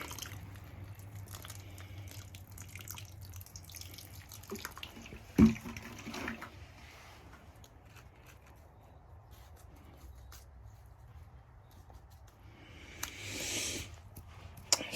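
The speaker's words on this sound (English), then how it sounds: "So you see there's the water coming out of the bottom of the container." Water drains out of the holes in the bottom of a plant container, a faint trickle and drip against a quiet background, with one sharp knock partway through and a brief louder splash near the end.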